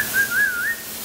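A single clear, gliding whistled bird call at a zoo's tropical rainforest exhibit rises and falls for under a second, close and fairly loud against a quiet background.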